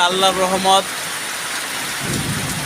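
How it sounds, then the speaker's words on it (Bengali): Heavy rain pours steadily with thunder and lightning on a Wednesday morning, a dense loud hiss filling the scene, with a voice talking briefly over it at the start. "এই দেখেন বৃষ্টি, প্রচণ্ড বৃষ্টি হইতেছে।"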